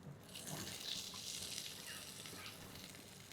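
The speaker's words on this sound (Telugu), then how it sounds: "ఆయిల్ బాగా వేడైన తర్వాత ఆవాలు, జీలకర్ర, కరివేపాకు, పచ్చిమిరపకాయలు ఇప్పటివరకు మనం వేసుకున్నది" Mustard seeds, cumin, curry leaves and green chilies sizzle steadily in hot oil for an Indian-style tadka, a continuous hissing crackle close by with no talk.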